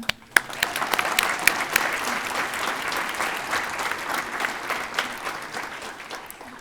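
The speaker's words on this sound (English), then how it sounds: "I'm just going to have us do one more round of applause for that." Applause at a CSU graduation ceremony: steady, moderately loud clapping from a crowd, with a few sharper individual claps standing out near the start and over the seven seconds.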